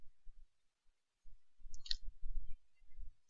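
A couple of sharp, brief computer mouse clicks during router setup on a desktop, heard close over near silence with faint low rumble.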